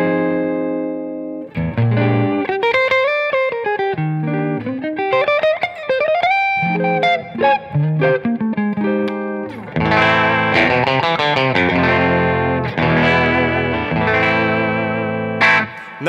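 Electric guitar played through an amp with a Catalinbread Dirty Little Secret Deluxe boost engaged, giving a full-range tone: sustained chords and bent single-note lines, loud and up close, ending in thick ringing chords.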